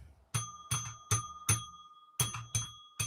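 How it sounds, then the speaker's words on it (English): A small bell is struck seven times in a quick, uneven rhythm, each bright ding ringing briefly before the next, close and clear with no talking. "You got to ring the bell."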